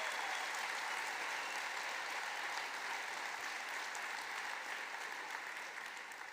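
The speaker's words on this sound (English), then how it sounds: "I think it's important to give a second to applaud that." Sustained applause from a large audience at a Rotary International convention speech, steady dense clapping filling the hall throughout and easing slightly toward the end, with no talk over it.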